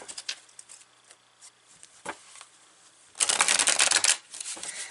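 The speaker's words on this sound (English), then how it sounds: "We're going to take some ethereal realm cards here." An Ethereal Visions illuminated tarot deck is handled and shuffled close up, with soft scattered flicks early on, then a dense, loud riffling shuffle lasting about a second.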